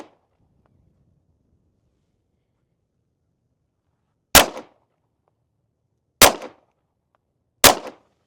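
Three sharp gunshots ring out at a shooting range, isolated and loud against near silence, the first after a long quiet pause and the next two spaced about a second and a half apart.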